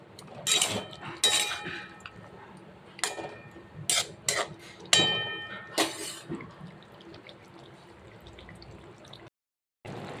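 A utensil stirs fish head, green papaya and green chilies in a cooking pan, giving a quiet series of sharp metallic clinks and scrapes spaced irregularly over a soft background.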